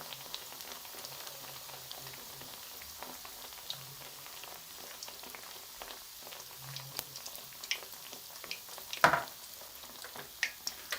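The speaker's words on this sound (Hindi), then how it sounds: "तकरीबन 5 मिनट लगेंगे एक साइड फ्राई होने में।" Besan-coated naan pakora frying in a pan of oil, a soft steady sizzle with small bubbling pops and occasional sharper crackles, close but quiet.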